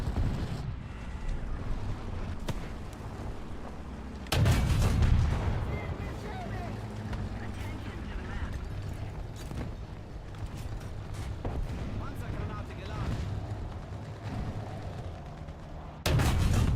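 Tank cannon shots in the War Thunder video game, a few heavy booming blasts at intervals over a constant low engine rumble, close and loud, with a voice talking faintly at times.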